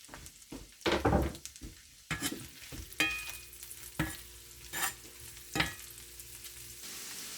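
Green onion sautés in butter in a pan with a soft, steady sizzle. A utensil scrapes and stirs several times in sharp, irregular strokes close by.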